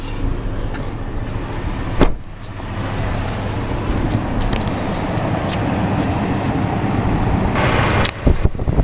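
Chevrolet truck's Vortec 3.7 liter inline five-cylinder engine running, a steady close rumble with a brief knock and some rustling handling noises, no talking.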